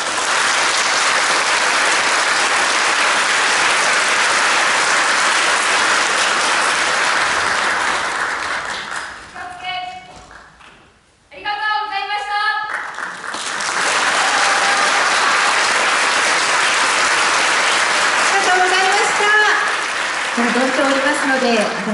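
Audience applause for the Kuma Junior High School wind band's 14-member performance at a school education festival: a long, dense burst of clapping that dips and pauses midway, then resumes loudly, with a voice speaking over the lulls.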